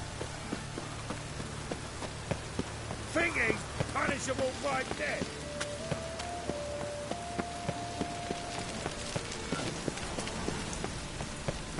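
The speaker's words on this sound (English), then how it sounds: "Rain again." Steady rain falls in The Witcher 3, a continuous hiss of drops on surfaces with scattered sharper taps, under a brief spoken line and soft background game music.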